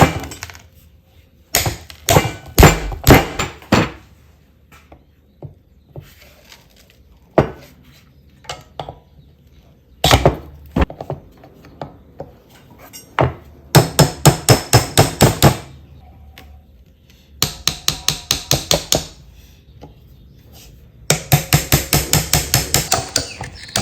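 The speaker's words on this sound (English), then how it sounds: "So Steven is hammering away" Hammer blows on a Ford Bronco brake booster, sharp metallic strikes in irregular bursts, from single hits to rapid runs of ten or so, loud and close with quiet gaps between.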